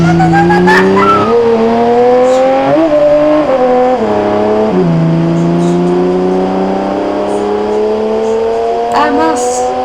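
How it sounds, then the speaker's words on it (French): Car in the BeamNG.drive driving game rolling off on its own, its engine droning and shifting pitch steadily with tire noise throughout, loud and continuous. "Des fois les voitures elles ont un défaut, c'est genre elles partent toutes seules."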